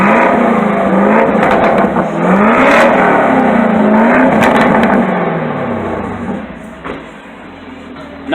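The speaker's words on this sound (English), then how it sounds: "Give me a rev." Car engine with open headers revving hard at a Cars and Coffee meet, loud rising and falling rasp in several quick pulses, then settling toward a lower idle near the end.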